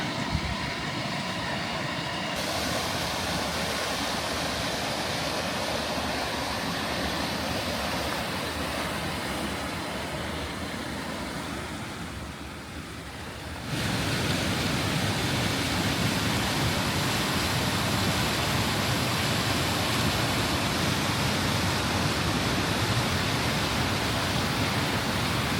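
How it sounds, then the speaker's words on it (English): A waterfall in the high Sierra Mountains, heard from a distance through trees as a steady broadband rush that grows louder and fuller partway through and continues without a break. "you can see a little bit of the waterfall through the tree branches"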